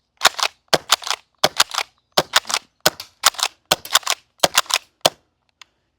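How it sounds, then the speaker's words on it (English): A magazine-fed Kel-Tec KSG shotgun firing outdoors, with about a dozen sharp, loud shots at a fairly steady rhythm, some doubled, then silence. "KSG doesn't really like to feed every single one, but we shot everyone."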